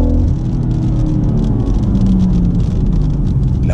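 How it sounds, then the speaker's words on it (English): A BMW M140i doing a launch control start in manual drive mode, with engine and road noise roaring loud and steady throughout. "Drive, manual, hard on the accelerator, launch control activated."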